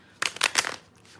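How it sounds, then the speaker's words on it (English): A deck of playing cards shuffled close by in quick riffling bursts, three or four crisp rustling flurries over about half a second, then quiet. "I'm going to shuffle and really mess the cards up"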